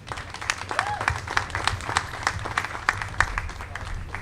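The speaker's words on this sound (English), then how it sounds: "Give another round of applause for that" Audience applause for a youth performance at a Brownsville, Brooklyn community event, a moderate round of clapping held steady for several seconds with crowd murmur and a voice underneath.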